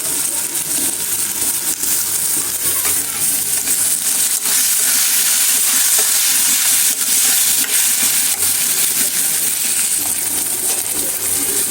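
Chopped tomato frying in a pan, a loud, steady sizzle with scattered crackles and pops running throughout, no speech.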